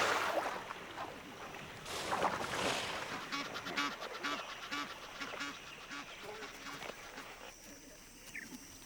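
Egyptian geese on water in Botswana's wildlife, a run of regular honking calls from birds at moderate distance over a steady watery background, with a faint voice briefly present.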